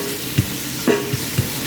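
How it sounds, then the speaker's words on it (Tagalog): Bihon rice noodles stirred into pancit in a pan, a few soft scraping and clattering strokes spaced out over low background sizzle, close by with no talk. "haluan po natin ng bihon"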